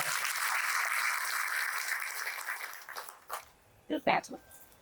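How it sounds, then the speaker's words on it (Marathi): An audience at a political party workers' rally in Chiplun claps loudly for a few seconds, then the applause fades out and a few scattered sounds follow in the quiet. "त्यांचं अभिनंदन करायला जोरदार टाळ्या"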